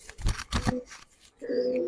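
Old-breed Giribaz pigeons in a loft give a soft, low cooing call near the end, after a few brief rustling and handling noises.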